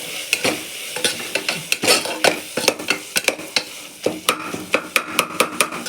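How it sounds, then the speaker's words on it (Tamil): Vegetables with coriander, turmeric, chili powder and garam masala sauté in a pan for vegetable biryani, a soft sizzle broken by a quick run of sharp spoon scrapes and stirring clinks close by. "இதை வதக்கிடணும்."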